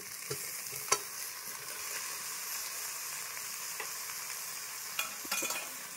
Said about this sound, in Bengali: আগে থেকে মাখিয়ে রাখা যে মাংস আর সয়াবিনটা এর মধ্যে ঢেলে দিচ্ছি।